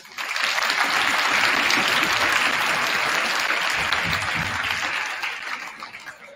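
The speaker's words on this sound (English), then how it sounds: "can we get another round of applause for Macklin?" Loud, sustained applause fills a high school Wish Week assembly, a thick even roar of many hands that swells quickly, holds for several seconds, then tapers off near the end.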